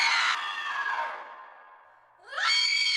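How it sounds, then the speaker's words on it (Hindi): A child screams in fear in a horror story sound effect, with a long, high wail that fades away and then a second sharp, piercing scream. The screams are close and loud. "इतना कहकर वासु डर से चीखने लगा"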